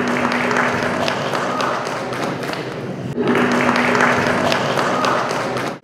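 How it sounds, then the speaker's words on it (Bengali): A seated audience applauds a second-place couple at a book launch, a steady dense patter of clapping that fills the room, drops off briefly around the middle, then swells again before cutting out. "আমরা একটু করতালি নিতে পারি।"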